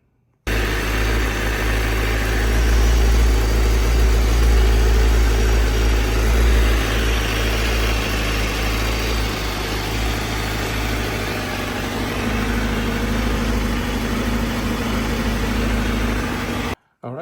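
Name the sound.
sport motorcycle engine idling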